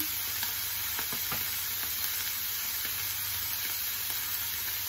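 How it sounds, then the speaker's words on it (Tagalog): Radish leaves sauté in sesame oil in a hot pan, a loud constant sizzle broken by soft stirring scrapes and taps as the greens are tossed. "Gisa na po natin ang ating dahon ng labanos."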